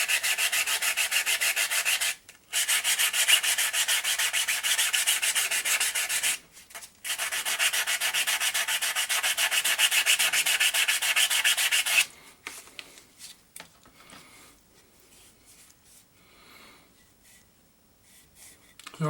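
Resin-coated 3D printed part being sanded by hand, close and loud, with long continuous scratchy rubbing strokes broken by two brief pauses, then quieter scattered scraping and handling noises.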